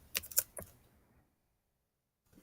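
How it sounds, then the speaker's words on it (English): Several quick keystrokes tap on a computer keyboard in a brief burst, quiet and close, followed by about a second of near silence and one faint last click. "I'm going to go ahead and type in"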